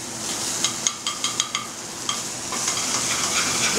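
A little garlic and shallot sautéing in a pan for a pan sauce, an even close sizzle with a quick run of light utensil taps near the start, then a steadier hiss, no talk.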